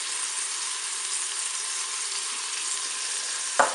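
Turkey roast sizzling steadily in a Cookeo multicooker on its browning setting, a dense continuous frying hiss with a brief sharp clatter near the end.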